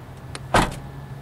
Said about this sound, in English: So opening the door to the CX-5